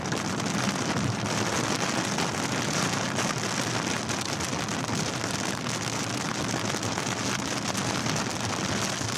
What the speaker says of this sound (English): About to drive through some rain though.